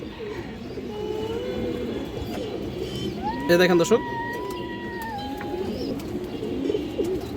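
China Khaki and Kaldam pigeons coo softly in a loft, low rolling calls running throughout beneath someone talking close by.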